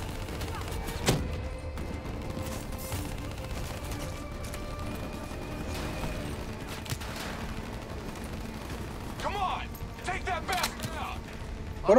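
Sustained gunfire from Call of Duty: Black Ops III fills the scene, a dense battle wash of shots and mechanical clanks with louder bursts near the end, under a steady game din.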